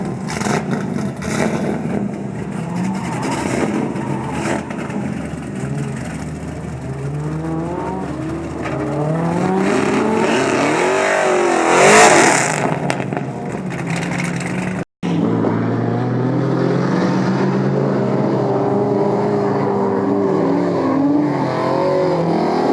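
Formula D drift car engine revving hard from inside the cabin on a ride-along, loud and continuous with rising and falling pitch sweeps and a brief cut near the midpoint before the roar resumes.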